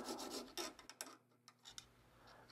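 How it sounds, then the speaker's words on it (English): A hand file rasps along the plunge line of a knife blade, a few quick close strokes that rise and trail off, followed by fainter scraping ticks. "I'm just cleaning up the plunge line using this file."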